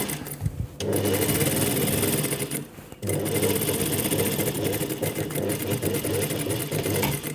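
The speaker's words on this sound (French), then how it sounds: "je suis en train de coudre les fonds de poche." A sewing machine stitches jacket pocket linings in two close, even whirring runs, a short one and then a longer one after a brief pause.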